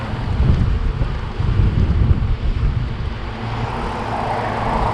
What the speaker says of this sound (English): So it's so windy that the wind almost just stopped my bike entirely.